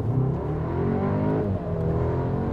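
Audi S3 Limousine pulling away from a standstill in Comfort mode, brake held and then full throttle, the engine note climbing steadily and loudly in pitch through the revs with no pause.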